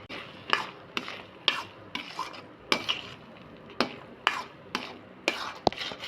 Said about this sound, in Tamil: முந்திரி பருப்பு சேர்த்துக்கோங்க. சேர்த்துட்டு நல்லா மிக்ஸ் பண்ணிக்கோங்க.